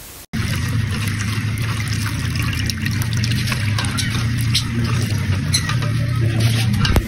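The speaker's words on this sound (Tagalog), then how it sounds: "At ibuhos na natin ng isang latang ebap mga pare ko" A can of evaporated milk poured into a saucepan with a flour roux for white sauce, a steady liquid gush and patter that begins abruptly and continues close up at constant level.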